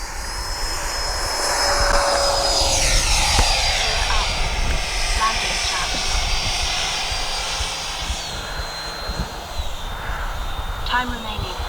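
A Freewing F-22 90mm electric ducted-fan RC jet spools up for takeoff on an open field, its high turbine whine holding steady and then sliding in pitch as it accelerates away. A voice is heard intermittently.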